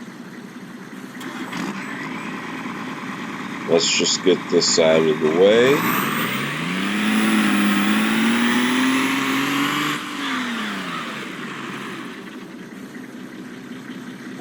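A truck engine in Farming Simulator 2022 starts up with a few sputters, then revs and drives with a rising, sustained drone before easing back down, while someone talks over it.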